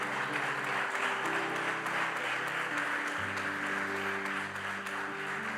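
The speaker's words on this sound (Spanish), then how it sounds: "Dale un fuerte aplauso." Loud, sustained applause from a church congregation, steady clapping throughout with a low musical drone underneath.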